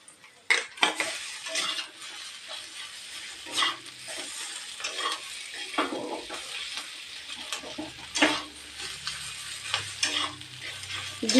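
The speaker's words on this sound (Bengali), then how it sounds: "এখন আমি এর মধ্যে আলু দিয়ে দিচ্ছি" Grated boiled potato stirred and fried in a pan, with a steady sizzle under repeated close scraping strokes of a utensil against the pan surface.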